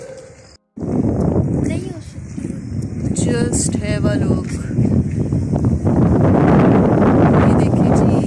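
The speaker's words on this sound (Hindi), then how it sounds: "तेज हवा है, आपको नज़र आ रहा है, मज़े की हवा चल रही है" Strong wind buffets an outdoor phone microphone during an evening walk, a steady loud rushing roar that begins after a short dropout, while someone talks over it.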